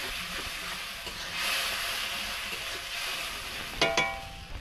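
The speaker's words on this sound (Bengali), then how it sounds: "টমেটো বাটাটা দিয়ে দেবো, দিয়ে ভালো করে কষবো।" Garlic paste and tomato paste frying in hot oil for a rohu fish curry, a steady soft sizzle and hiss throughout, with a brief brighter clatter of stirring near the end.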